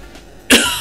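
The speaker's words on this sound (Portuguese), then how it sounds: "Já tô tossindo já." A single sharp cough bursts out near the end, close and loud, after a quiet moment.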